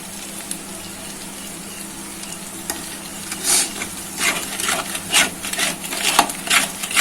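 Spices with turmeric, chilli powder, sugar and salt are stirred as they fry in oil for a chhana kofta curry, giving a steady low sizzle with repeated scraping strokes that grow louder and more rhythmic in the second half.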